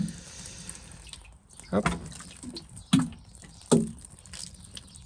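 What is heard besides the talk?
watering seed trays before sowing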